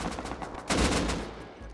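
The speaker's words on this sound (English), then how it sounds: "He tried shooting me and shot the other dude in the head" Gunfire in the survival video game Rust, a dense burst of shots swelling midway and trailing into a noisy, rumbling decay, loud and close with no talk over it.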